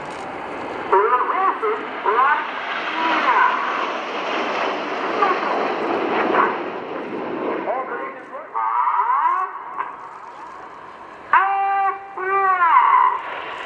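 Red Arrows BAE Hawk T1 jets passing at the RIAT 2017 airshow at Fairford, a loud sustained jet roar rising and falling across the pass, heard under continuous commentary speech.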